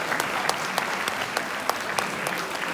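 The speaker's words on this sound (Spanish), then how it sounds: "Fuerte el aplauso para ustedes." Scattered audience applause at a national rare diseases day event, a thin, moderately distant patter of claps with a few sharper individual hits standing out.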